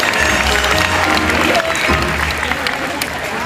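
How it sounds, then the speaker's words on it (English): An audience claps steadily in a dense, sustained burst of applause, with crowd noise and voices mixed in. "Give them both a huge round of applause"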